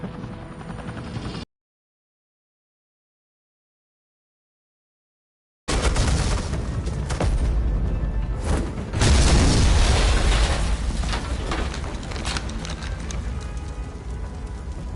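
Suppressing gunfire and explosions fill a scene from the Batman: The Enemy Within game, with loud dense rattling bursts and heavy booms after a stretch of complete silence, close and sustained.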